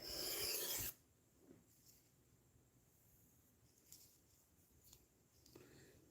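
Blade stroked on a 3000/8000 grit whetstone: one loud rasping pass at the start, then quieter scattered scraping strokes, close and alone.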